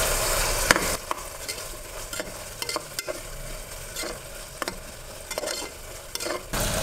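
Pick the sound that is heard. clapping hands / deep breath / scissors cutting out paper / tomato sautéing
tomato sautéing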